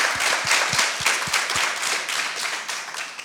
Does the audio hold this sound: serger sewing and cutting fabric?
no